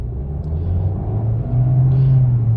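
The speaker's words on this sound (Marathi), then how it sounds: "तर आता मी हार्ड ॲक्सेलरेटर प्रेस करतो." An AMT automatic car accelerates hard in automatic drive mode, a steady low engine rumble heard from inside the cabin that rises slightly in pitch and loudness as the revs climb.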